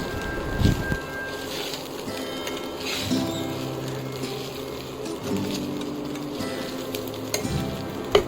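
Sabudana khichdi being stirred in a pan, with a steady soft sizzle and repeated scraping strokes of the spoon against the pan, close and continuous with no talking.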